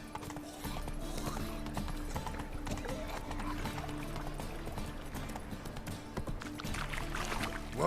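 Roach the horse's hooves clip-clop in a steady, brisk rhythm in The Witcher 3, close and continuous under game ambience and faint voices.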